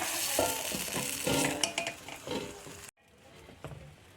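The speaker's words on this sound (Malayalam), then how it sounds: "അപ്പോൾ നമ്മുടെ വെളുത്തുള്ളിയൊക്കെ നന്നായി മൂത്തു നമുക്കിത് കറിയിലേക്ക് ഒഴിച്ചു കൊടുക്കാം" Fried garlic tempering sizzles loudly as it is poured into a white bean and mango curry, a dense crackling hiss with faint clinks that cuts off abruptly, leaving a quieter, softer sizzle.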